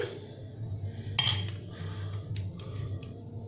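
Flour being mixed into cake batter with sugar in a bowl, soft scraping and a few light clinks of a utensil against the bowl, fairly close, with a low steady hum underneath.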